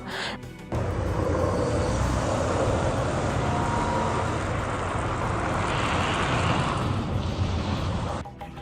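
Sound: drone flying overhead

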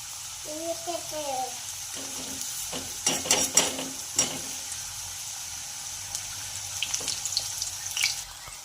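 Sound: frying mung dal and wheat flour matri on medium gas

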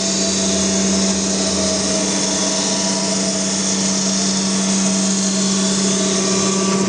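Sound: surface grinder grinding table

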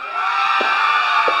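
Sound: audience applause and cheering for a contestant

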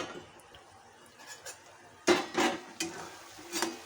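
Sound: sautéing potatoes in a pan for Bombay duck curry

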